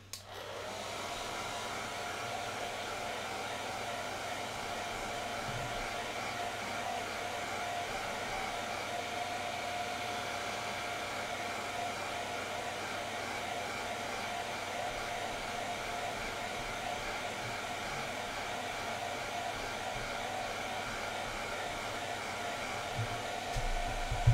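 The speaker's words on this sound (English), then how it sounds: "I am going to hit it with the dryer." A hair dryer blows steadily and loudly for the whole stretch, drying a watercolor painting, a constant whirring rush of air with no pauses and no talking.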